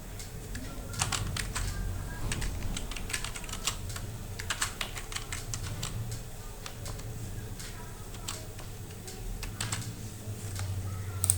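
A computer keyboard clatters with steady close-up typing as HTML code is entered, fast irregular keystrokes running continuously with faint talk now and then.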